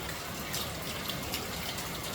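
Steady rain pouring down on an island in Jamaica, a dense even hiss of falling water with no pauses, heard alone at moderate level.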